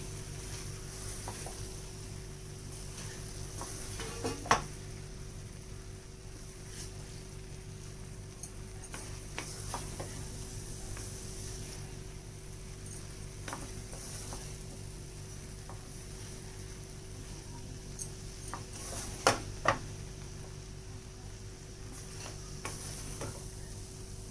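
Rice being stirred in a pan for tomato rice, a quiet, steady sizzle with occasional scraping clinks of the spoon against the pan.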